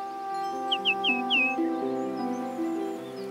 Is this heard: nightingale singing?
yes